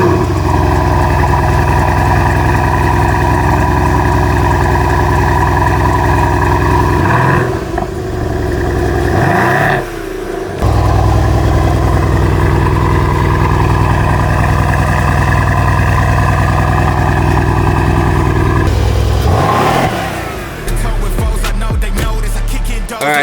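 A Mercedes C63 engine runs at a loud, close, steady idle with a deep rumble. A couple of brief dips and surges break the idle, and a louder blip comes near the end.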